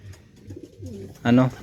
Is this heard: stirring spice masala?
no